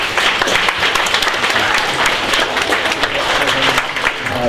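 Audience at a kids' hackathon show-and-tell breaking into loud, sustained applause, a dense continuous wash of clapping across the whole stretch.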